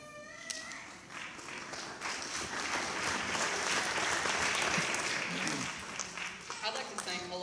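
Audience applause at a school production of Annie Jr., a dense sustained wash of clapping from a crowd that swells, holds steady, then thins toward the end, with some voices mixed in.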